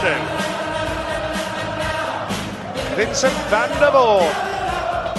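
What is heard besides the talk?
darts crowd cheering for Van der Voort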